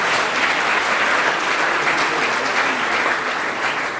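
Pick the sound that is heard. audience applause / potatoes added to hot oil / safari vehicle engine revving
audience applause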